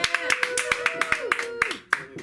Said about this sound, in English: Let's give it up for Ryan.